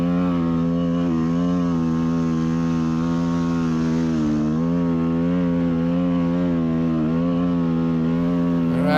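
A motorcycle climbs a steep cinder hill on a volcano at Cinder Hills, its engine giving a loud, steady, close drone whose pitch wavers slightly as it labors uphill.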